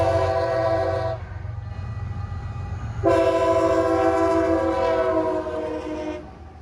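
CSX locomotive 1852, painted in the CSX Heritage Scheme, sounds its horn in two loud, sustained blasts, the first about a second long and the second about three seconds, over the steady rumble of the passing train.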